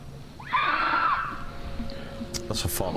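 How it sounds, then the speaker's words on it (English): A fox screams at night: a single loud, drawn-out wailing shriek like a woman's cry rises and falls for about a second, followed by fainter noises and brief sharp sounds. "Foxes sound like women screaming."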